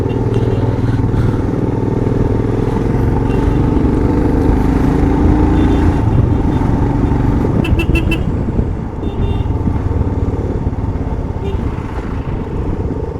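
Heavy road traffic in Kodaikanal during the monsoon, with motorcycles and cars rumbling close by, scattered horn toots and clatter over a continuous dense engine drone.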